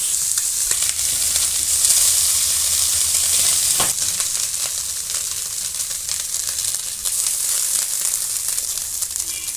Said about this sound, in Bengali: মাছগুলো আমি নাড়াচাড়া করে ভেজে নিয়েছি।